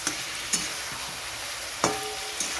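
Papaya curry with potato and katla fish sizzles in a pan as hot water goes in, a steady frying hiss broken by several scraping stirs and clanks of a spoon, close and unvoiced.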